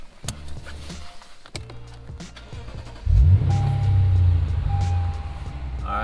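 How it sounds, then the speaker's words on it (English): A Lexus RC F engine cranks and fires up, settling into a deep, steady idle rumble close by after a few clicks and knocks from inside the car. "First, start the car."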